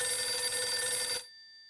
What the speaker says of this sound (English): Phone's ringing.